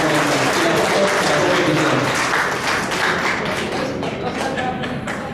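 An audience at a round table event claps in a steady, full roomful of applause with individual hand claps distinct, the crowd sound thinning slightly toward the end.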